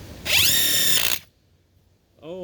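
A subcompact impact wrench runs a fastener down in one loud, steady whine of just under a second, then quiets before the motor spins up again at the end.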